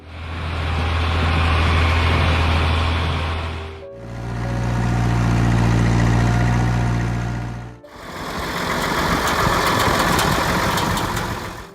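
Three separate stretches of a John Deere 4020 tractor engine idling, each a loud, steady, low rumble with knocking clatter, split by brief dips where the sound cuts and resumes.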